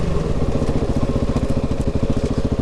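A 2019 KTM 690 Enduro R motorcycle runs with a loud, close, throbbing single-cylinder thump, its pulsing engine note steady and dominant throughout.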